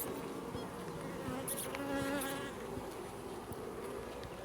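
Honeybees buzz in a steady, dense drone close by at an open hive, a constant hum with occasional individual bees passing nearer.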